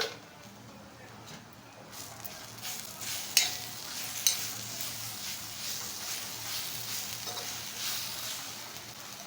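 Taro leaf curry sautéing in a pan with coconut added, a steady sizzle under scraping strokes of a spoon, with two sharper clinks of utensil on metal near the middle.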